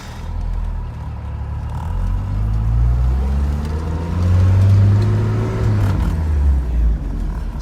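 A 1971 Alfa Romeo GTV engine pulls through the gears from inside the moving car, a loud rising and falling drone with rev climbs and shifts, steady road noise underneath.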